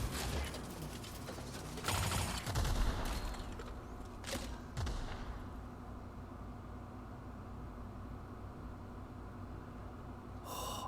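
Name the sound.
gunfire from a weapon in The Outer Worlds video game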